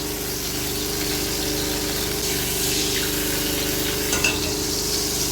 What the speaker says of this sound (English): Put a dry saucepan on the fire. Add 3 tablespoons of melted butter.